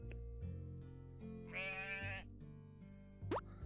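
Two sheep bleats, one long and wavering in the middle, another short and sharp near the end, over a steady low background hum.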